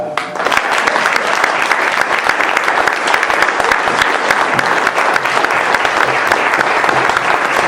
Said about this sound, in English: Give him a well-rounded applause, Dr. Llaila Afrika.